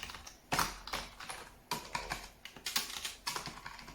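Keys clatter in quick, uneven bursts on a Microsoft 850 wireless keyboard, with a few louder presses that sound like the space bar, recorded close up and alone.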